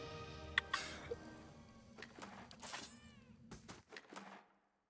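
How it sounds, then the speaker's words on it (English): A small cat meows in a video game, several short high mewing calls scattered over a few seconds, fairly clear against a soft background with light game clicks. "I love it when I just hear the little kitty."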